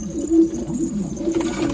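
Domestic pigeons, including rose-patterned birds being sorted from a flock, coo in low, throaty repeated calls close by, with a steady murmur of several birds overlapping and no talk.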